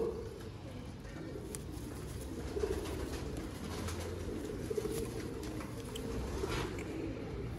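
Young pigeons coo softly at a distance over a steady background hum, with occasional faint rustles and light patter.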